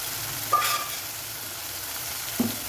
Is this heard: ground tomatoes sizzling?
yes